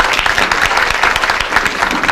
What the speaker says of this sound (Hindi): एक ताली इनके लिए हो जाए.